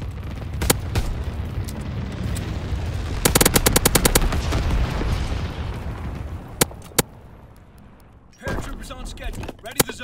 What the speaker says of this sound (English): Incendiary mission commenced.